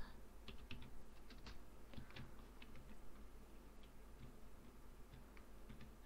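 Rapid keystrokes on a computer keyboard during a Minecraft session, a steady run of light clicks and taps at moderate, close range over a low background hum, with no voices.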